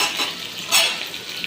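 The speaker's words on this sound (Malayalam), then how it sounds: "ഇനി ഇതിലേക്ക് നമുക്ക് കട്ട് ചെയ്ത് വെച്ചിട്ടുള്ള വഴുതനങ്ങ ഇട്ടെടുക്കാം." Cut brinjal pieces hit a hot oiled pan for a Kerala-style stir-fry, bringing a loud, close burst of hissing sizzle with scraping stirring sounds that flare up midway and then settle into steady frying.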